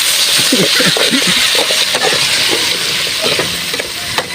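Ginataang papaya sizzles and crackles steadily in a hot pan, loud and close, with a voice talking briefly in Tagalog over the frying.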